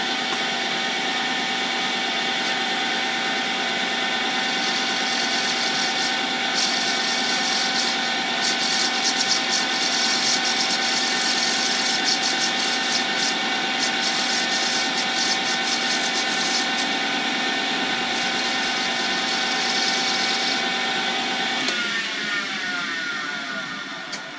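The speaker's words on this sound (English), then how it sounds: "Drill." A loud, steady mechanical whine runs for many seconds at constant pitch, like a power drill held on, then shifts and tapers near the end.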